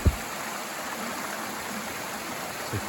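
A mountain stream at the base of a descent from Smarts Mountain on the Appalachian Trail flows in a steady, close rush of water with no other sounds, a single brief knock near the start.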